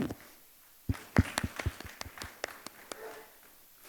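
A small audience gives a volunteer brief, sparse clapping. There are a dozen or so separate claps, irregular and close, which thin out after a few seconds into a quiet room.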